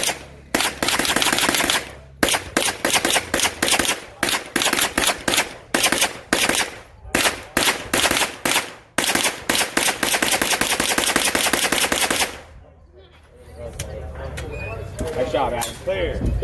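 Rapid bursts of gunfire ring out at a live-fire shooting event, loud and close, with fast strings of shots separated by short pauses before the firing stops and faint talk and movement follow.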